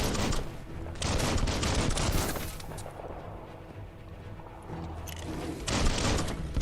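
Sustained bursts of gunfire in Biomutant, loud and rapid, coming in heavy volleys with a quieter stretch in the middle before the shooting picks up again.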